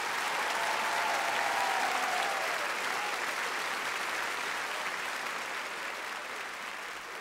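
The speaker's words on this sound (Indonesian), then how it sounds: "Berikan tepukan kepada mereka." A large audience applauds the Orkestra Melayu Singapura, led by Amri Amin, at the Sinar Lebaran 2023 show; dense, sustained clapping at steady loudness fades slightly toward the end, with no voices over it.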